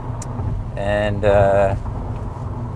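An early 1978-1979 Porsche 928 engine pulls smoothly from low revs, a steady rumble with a rising tonal drone heard from inside the car beneath people talking.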